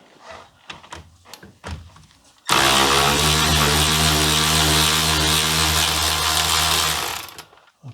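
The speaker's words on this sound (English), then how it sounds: "Let's get it off and see if I can get it off with my power wrench." Loud, sustained whir of a power wrench (impact gun) removing the final drive bolts on a BMW E87/E90/E91/E93, running steadily for about five seconds after a few short clunks and knocks.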